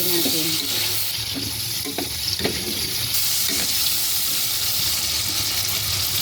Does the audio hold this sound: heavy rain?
no